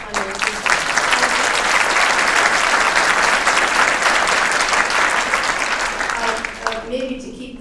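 An audience at a 2008 autobiography and biography awards ceremony claps steadily for the winners, a full, even wash of applause that fades in the last second as a voice returns.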